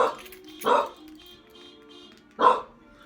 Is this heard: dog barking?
yes